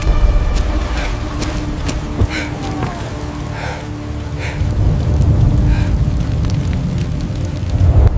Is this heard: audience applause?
no